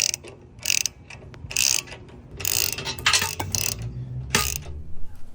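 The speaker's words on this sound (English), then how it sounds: "With a 16mm socket, I'm gonna go ahead and start tying them down." Ratchet wrench with a 16mm socket tightening the mounting bolts of a Smittybilt 9.5K winch on a Jeep Gladiator, giving several separate bursts of quick clicking with short pauses between them, close and fairly loud.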